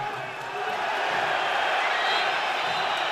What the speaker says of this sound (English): The whistles and the jeers from this Prague crowd will tell you